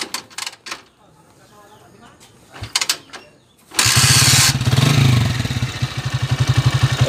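A Honda TMX 155 motorcycle engine, worn with age, starts after a quiet stretch and runs loud and close at a steady idle with a rapid regular chug, preceded by a few clicks and knocks.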